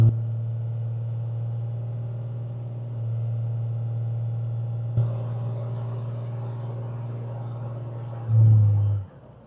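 A 12v Cummins truck engine pulling on a hill, a deep steady drone inside the cab that builds gradually, ending in a brief louder low surge.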